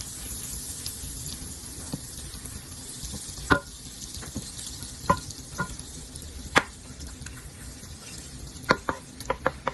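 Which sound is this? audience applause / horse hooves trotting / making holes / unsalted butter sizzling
unsalted butter sizzling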